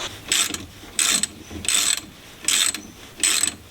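A ratchet clicks in five evenly spaced bursts of rapid pawl ratcheting, close and clear, while a bolt on the handbrake cable bracket of an MGB GT under restoration is undone.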